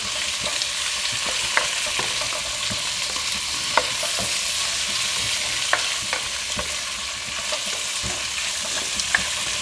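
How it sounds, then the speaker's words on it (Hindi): Meat lightly frying in a pot over browned onions for arvi gosht curry, a dense, even sizzle running throughout with occasional soft ticks of a spoon stirring, close and steady. "हम ये इसमें गोश्त डाल देंगे। इस तरीके से हम इसको हल्का सा फ्राई करेंगे।"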